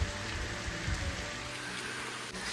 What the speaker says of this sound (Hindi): एक साइड से भयंकर वाली बारिश हो रही है